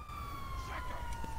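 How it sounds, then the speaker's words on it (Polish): A police car siren in a video game wails steadily and slowly drops in pitch, faint and mixed with low background noise. "Policja podjeżdża."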